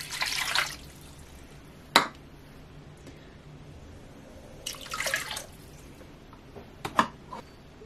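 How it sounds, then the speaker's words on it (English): Half a cup of water poured into a crock pot: brief splashing and trickling bursts with scattered drips in between, close and fairly quiet. "You're gonna add 1/2 cup of water."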